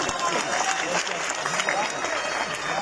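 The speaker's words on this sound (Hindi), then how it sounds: "तालियां बजा के दाद दीजिए" Audience clapping at an Urdu poetry recital, a dense, steady wash of applause filling the whole moment, with voices mixed in.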